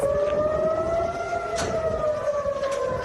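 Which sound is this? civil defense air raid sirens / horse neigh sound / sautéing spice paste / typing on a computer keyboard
civil defense air raid sirens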